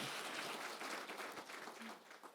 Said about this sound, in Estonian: see väärib aplausi